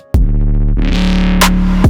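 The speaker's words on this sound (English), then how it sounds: "Sounds a bit too dry, so let's maybe add a reverb. We can automate the reverb wet on the clap." A dry electronic clap in a UK garage production, with reverb wet level automated, appearing as a sharp hit followed by a sustained, tonal, processed tail and another burst near the end, loud and alone.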